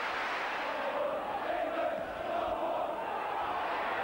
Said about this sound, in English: Liverpool still striving to give this crowd in such a festive mood the goal they've been waiting for, and Glenn Hussein with a scorching shot.